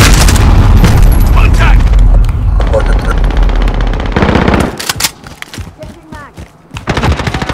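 Dense, loud machine-gun fire and booming blasts in Call of Duty Modern Warfare, continuous at first then breaking into scattered bursts, with talk mixed underneath.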